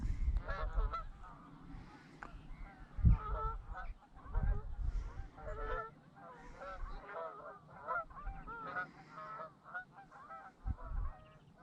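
Repeated honking from a flock of Canada geese passing overhead at Essex creeks and marshes, calls overlapping in bursts over a low rumble of wind, loud and close.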